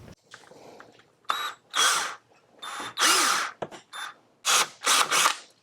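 A power drill boring into a part of a totaled 2024 BMW X3 during a rebuild, in loud, close, repeated bursts of whirring and grinding separated by short pauses.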